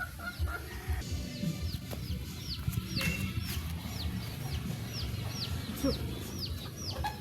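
Chickens cluck and murmur continuously nearby, with small birds chirping repeatedly in the background of a rural yard.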